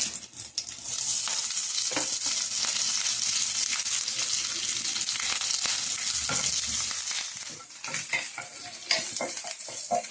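Curry leaves sputter and crackle in hot oil while tempering a chutney, a loud, steady sizzle with sharp pops that runs the whole time, up close with no talking.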